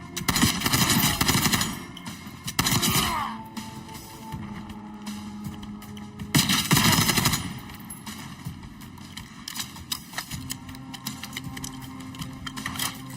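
Light machine gun firing in Call of Duty Black Ops 6, rapid full-auto bursts that come in loud clusters separated by pauses, with a low game hum underneath.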